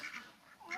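Hungry ducks quack eagerly for food in a few short, nasal calls, fairly faint, with a brief pause between them.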